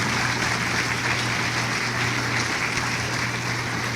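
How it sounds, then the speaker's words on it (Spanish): A church congregation applauds, dense and steady clapping filling the room without pause, loud and close, with no speech over it. "Dele un aplauso al Señor"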